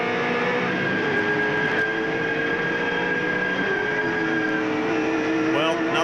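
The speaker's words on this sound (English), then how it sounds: "Have a listen to the rev of this V8." A V8 race car engine drones loudly and continuously at high revs at Winton Motor Raceway, its pitch holding steady then dropping and climbing again, with no talking.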